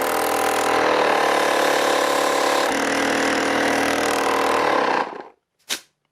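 A Cartrend 10945 12V portable air compressor pumps close up with a loud, steady motor drone for about five seconds, then shuts off, followed by a brief faint click.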